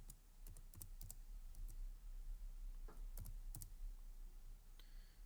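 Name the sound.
typing on computer keyboard in Excel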